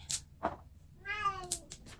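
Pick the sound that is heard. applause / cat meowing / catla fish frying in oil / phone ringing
cat meowing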